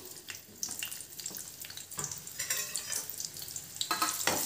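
Small onion frying in a few spoons of hot oil in a pan for garlic chutney, a steady bright sizzle with crackling bursts and occasional clinks, close and continuous with no talking.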